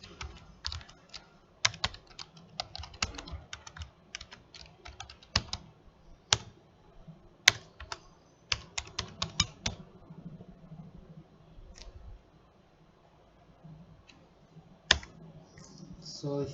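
Typing on a computer keyboard during a C lab programming session, with irregular bursts of close, crisp key clicks separated by short pauses and a low background hum.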